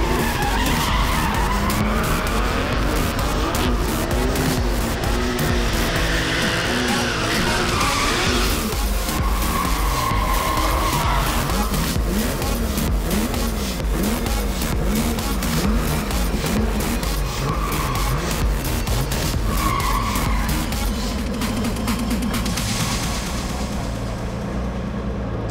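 Drift cars battle in a J-Spec Drift Challenge top 16 run at Sand, a race-prepped car against a rusty street car. Their tires squeal and skid continuously over roaring, revving engines, loud and sustained throughout.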